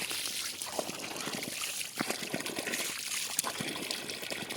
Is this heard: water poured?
yes